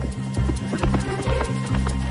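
A horse being ridden at a riding lesson, hooves clip-clopping in a quick, steady rhythm of close, fairly soft beats throughout the short stretch, with no talk over it.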